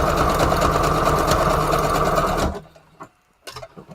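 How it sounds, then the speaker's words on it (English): A sewing machine stitching a wide, long zigzag for junk journal embellishments runs loud and steady, then stops abruptly, leaving a few faint handling clicks and brief bursts. "Let's see how this stitches up. And we're going to use a zigzag stitch."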